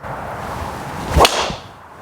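A single sharp, loud crack of a Ping G430 golf driver striking a ball, standing out against steady outdoor background noise.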